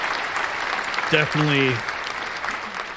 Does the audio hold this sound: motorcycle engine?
no